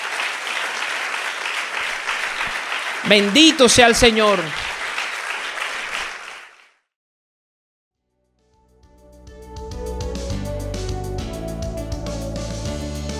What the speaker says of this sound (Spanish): Damos un aplauso a nuestro Dios.